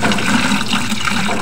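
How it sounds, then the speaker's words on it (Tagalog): Fresh water pours steadily into a turtle tank, a continuous splashing rush that stays loud and close for the whole moment with no talking. "lalagyan muna natin to ng tubig,"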